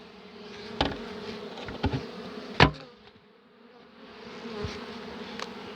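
A low, steady buzz of honey bees at a hive fills the background, broken by a few sharp knocks and thuds close by as the lid is closed.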